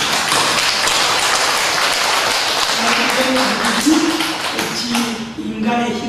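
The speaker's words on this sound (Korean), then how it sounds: "큰 감사의 박수 드리겠습니다" A church congregation at a Sunday service in Jinju breaks into applause, a dense wash of clapping heard over a voice, which carries on through it.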